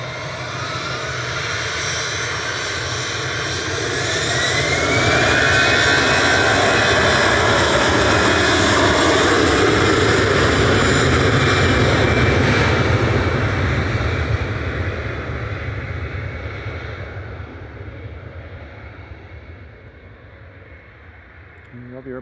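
An airliner at Manchester Airport on a flight to Amsterdam, a broad jet roar that swells to a loud peak midway, then slowly fades, with a faint rising whine early on.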